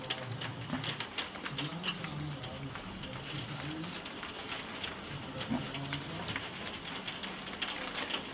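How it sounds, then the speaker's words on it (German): Hail pelting down during a thunderstorm as Storm Zeljko passes, a dense, steady clatter of sharp ice impacts on hard surfaces that continues without letup, with a faint low voice murmuring underneath. "Hagel."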